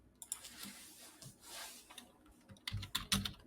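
Keys clatter on a computer keyboard in irregular bursts of typing, close and fairly quiet, with the taps growing denser and louder toward the end and no talking.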